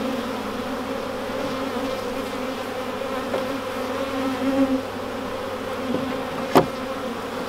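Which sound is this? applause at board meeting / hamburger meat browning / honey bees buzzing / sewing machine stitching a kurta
honey bees buzzing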